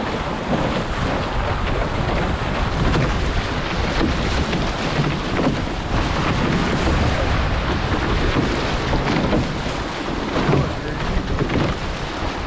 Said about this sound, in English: Kind of gusty out here.